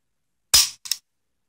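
A Ruger SR22 pistol is dry fired: a sharp metallic snap of the hammer falling, then a softer second click a moment later as the trigger resets, heard close up with no voices.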